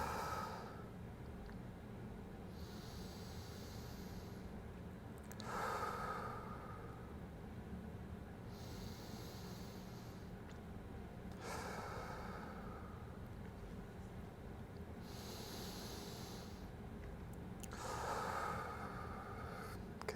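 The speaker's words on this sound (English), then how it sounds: "I just breathe into that new range of motion" Slow, deep breathing during a hip external rotation stretch, with soft, airy exhales spaced roughly every six seconds over a quiet background hum, close and gentle.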